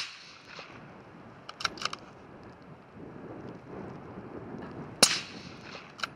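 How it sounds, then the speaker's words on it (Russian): A hunting rifle fires a single sharp, distant crack during a hunt in Norway, heard over faint wind and rustling outdoors. "Можешь выстрелить ему в лопатку."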